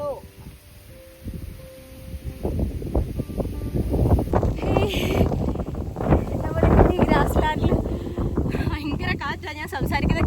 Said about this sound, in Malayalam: ഭയങ്കര കാറ്റാണ്. ഞാൻ സംസാരിക്കുന്നത് കേൾക്കാൻ പറ്റുമോ എന്നറിയില്ല, ഭയങ്കര കാറ്റ്.